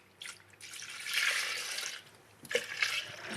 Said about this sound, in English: Pour a little coolant in there.